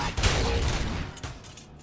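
Burst of M60 machine gun fire in a Robocop film, a dense continuous rattle lasting under two seconds that fades slightly toward the end.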